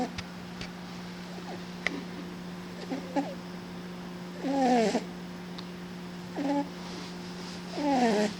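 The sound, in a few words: cat snoring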